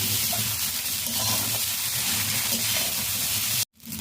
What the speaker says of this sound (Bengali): এবার আমি ভেজে রাখা সবজিগুলো দিয়ে দেবো।